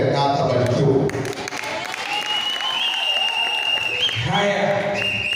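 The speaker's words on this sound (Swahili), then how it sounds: "Ndio makofi ya Bishop" Applause for a Bishop at a church gathering, a crowd clapping steadily throughout while voices talk and call out over it.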